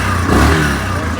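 An engine of a 2024 Yamaha Grizzly 700 EPS SE ATV revs steadily up close under throttle, a rough mechanical drone with rattling vibration, holding a fairly even pitch for about a second.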